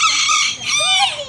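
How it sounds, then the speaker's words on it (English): A bantam micro rooster crows once, close and loud, a short shrill cock-a-doodle-doo with a rising and falling tail. "it's a banny, micro rooster"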